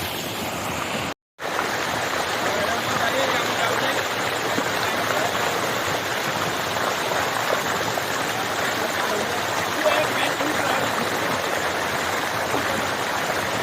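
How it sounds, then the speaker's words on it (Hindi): A continuous rushing roar of falling water, broad and steady from a jungle waterfall close by in Kalahandi, Bhawanipatna, with a brief dropout near the start. "झरनाटा"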